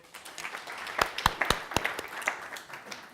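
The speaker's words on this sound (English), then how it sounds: "everyone give her a clap first of all" A small audience gives a brief round of applause, a handful of sharp, distinct claps that quickly thin out, fairly quiet and close.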